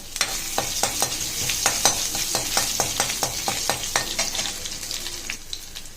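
Crushed ginger and cumin seeds frying in hot oil in a kadai, a loud close sizzle broken by repeated sharp spatula scrapes and stirs, no voices.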